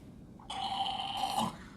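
A man imitates snoring with a single rough, buzzing snore of about a second, close and fairly quiet, with no talk.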